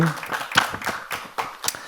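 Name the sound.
congregation clapping in church service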